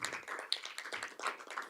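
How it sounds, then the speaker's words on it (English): A small scattered round of hand clapping from an audience at a school board meeting, light and somewhat distant, with uneven irregular claps over about two seconds. "How about a big round of applause for our"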